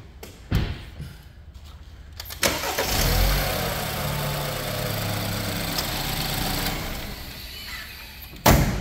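A 2014 BMW 528i four-cylinder engine starting up: a few clicks and thumps, a brief crank, then the engine catches and settles into a steady, close idle, ending with a sharp thump.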